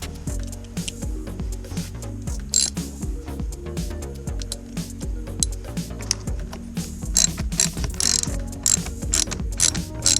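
A ratchet with a 6.5mm socket turns bolts on a Pontiac Fiero, giving rapid, close clicking pawl bursts in repeated runs with short pauses and no talk.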